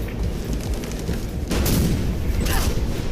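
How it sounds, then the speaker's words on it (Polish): Steady rumbling gunfire with bursts of sharper cracks, continuous and fairly loud, from a battle in the video game Mirror's Edge. "Słyszę strzały"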